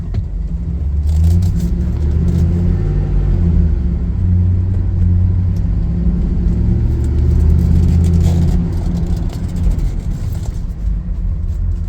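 A Ford F-450 XL regular cab box truck drives along, a loud steady low engine rumble and road roar heard from inside the cab with no talk.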